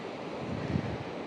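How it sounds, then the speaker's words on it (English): Broadband surf wash at the Pacific Ocean on a sunny day, a steady near roar with a slight swell in the middle, mixed with wind buffeting the microphone. "It's such a beautiful day here at the Pacific Ocean"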